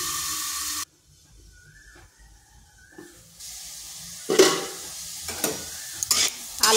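Potatoes frying in oil during a Bengali banana stem recipe: a short loud sizzle cuts to near silence, then faint stirring builds into bursts of hiss and scraping as the potatoes are tossed in the pan.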